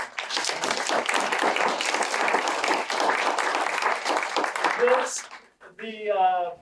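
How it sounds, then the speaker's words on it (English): Audience applause at a church-based family support program meeting, a full round of clapping from the gathered crowd that builds and holds for about five seconds, then fades as a person begins speaking. "like to give a great big round of applause to the Iron Sharpens Iron program"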